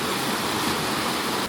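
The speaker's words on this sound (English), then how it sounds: "All the water gushing out there." The River Avon gushes beneath a bridge, a loud, dense, continuous rush of churning water with no break and no voices.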